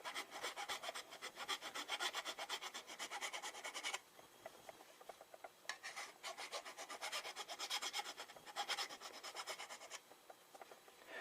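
A Harley-Davidson exhaust baffle is sanded by hand in quick, rhythmic back-and-forth rasping strokes, heard close up with two brief pauses between runs.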